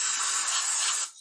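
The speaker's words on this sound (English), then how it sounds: "You just spray it in there and clean it off." Aerosol throttle body and air intake cleaner sprays in one sustained, close hiss lasting about a second before cutting off abruptly, with no voices.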